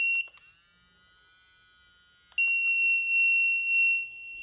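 A K19+ detector gives a few quick beeps, then a steady high-pitched alarm tone, a brief pause, and a second louder sustained tone, close and clear with no talking.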